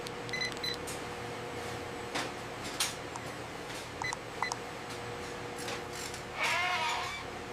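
Alpine and Boer goats in a processing facility, with a steady mechanical hum and scattered bleats, one louder bleat near the end over constant industrial background noise.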